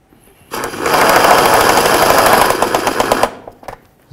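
A power tool rattles in a loud, fast burst of roughly three seconds while snugging bolts on a 2005-14 Ford Mustang during fuel filter replacement, then cuts off sharply.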